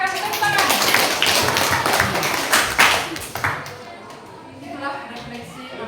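Classroom applause after a lesson reflection, a dense burst of clapping from children that thins out after about three seconds, with a few scattered claps and a voice in the background.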